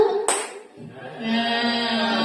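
A single sharp hand clap from a group at a school teachers' workshop on positive culture, followed at once by voices talking and chanting.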